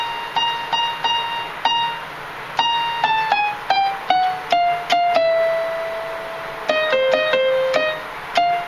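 Brass intro to a song arrangement: a run of short, bright staccato notes in clusters, then sustained held tones, fairly loud and alone without talk.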